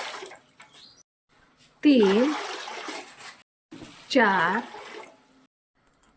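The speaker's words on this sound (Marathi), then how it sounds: "5 आणि 6 पातेले मी पाणी घातलेलं आहे" Water is poured by the potful into a pot for sabudana papad batter in two distinct splashing bursts, with a voice counting between the pours.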